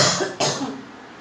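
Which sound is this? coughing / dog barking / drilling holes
coughing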